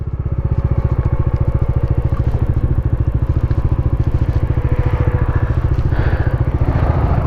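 Off-road motorbike on a Ladakh trail between Diskit and Pangong Lake pushing through a deep water crossing, engine thumping loudly and rhythmically up close with splashing clatter.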